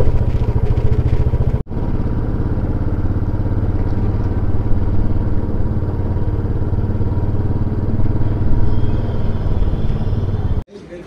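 A motorcycle engine near the parking area in Nako village, Himachal Pradesh, runs with a steady, close, low throbbing rumble that continues throughout, with a brief break near the start.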